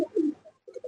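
A pigeon coos in a loft in two short bursts, low and throaty, separated by a brief pause, close by and with no talking.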